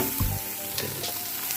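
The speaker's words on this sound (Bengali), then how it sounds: "আর এবারে এখানে এই পেঁয়াজ আর লঙ্কা ফোড়ন দিয়ে তাকে দিয়ে দেবো বন্ধুরা" Boiled jute greens frying with an onion and chili tempering, a brief steady sizzle with a soft bump and faint wet hiss.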